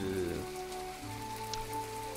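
Rain in the game My Time at Portia, a steady soft patter of drops on surfaces holding evenly through the clip beneath a faint sustained musical tone.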